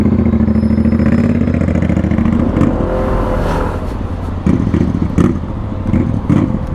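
A motorcycle with a loud exhaust passes in busy central Belgrade traffic, its engine droning and revving close by, with rumbling idle and clattering bursts as it moves through the congested lanes.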